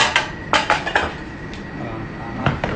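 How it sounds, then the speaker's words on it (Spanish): Pasta being served onto plates in a kitchen, with dishes and cutlery clattering in several sharp, close clinks scattered across the moment. "Vamos a servir la pasta en el plato."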